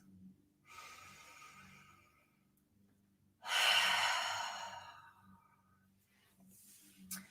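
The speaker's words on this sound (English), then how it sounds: "So let's take 3 breaths." Slow, deep breaths taken during a calm guided relaxation, with a long soft inhale, a pause, then a strong audible exhale close to the listener, and another breath beginning at the end.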